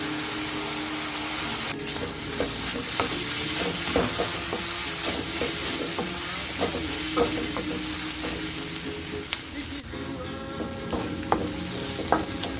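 Onions frying in a pan for ginger potatoes, a dense continuous sizzle close up with frequent clicks and scrapes of stirring throughout.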